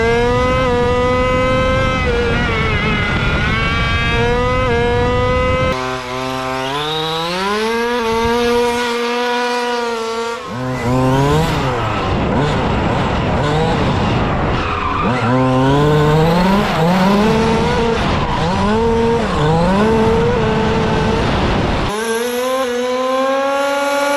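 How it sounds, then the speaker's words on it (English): A small high-revving petrol engine in an RC car with two gears whines up and down in pitch, rising and falling as it accelerates through gears, loud and close with no talking. "here's a petrol RC car with 2 working gears"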